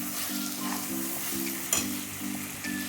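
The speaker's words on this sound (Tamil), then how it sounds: "இப்போ நம்ம நல்லா வதக்கி விட்டுக்கலாம்" Tomatoes and coriander sauté in hot oil for a chicken gravy, a steady close sizzle with rhythmic stirring scrapes and one sharp clink of the spoon partway through.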